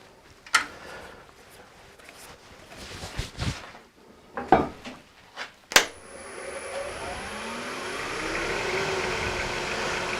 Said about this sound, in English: I've got my lathe speed around about 2000 to start off with, just to get rid of these corners.